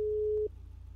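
Phone tone in the GTA 5 video game: a single steady electronic beep, loud and near, holding for about half a second before cutting off, followed by faint low hum and no talk.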